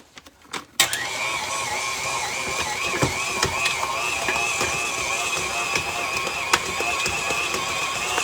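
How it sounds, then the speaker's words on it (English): A stand mixer kneads ham and cheese kolache dough, giving a steady, loud mechanical whir with rhythmic clicking and knocking that starts abruptly after a brief pause and then runs continuously. "I'm gonna knead it for 6 minutes in this mixer."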